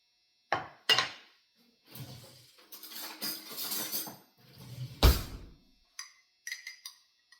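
A metal ladle knocks and clinks against a pot of homemade wild rice chicken soup, a few sharp close knocks followed by softer scraping and stirring, then small clinks at the end.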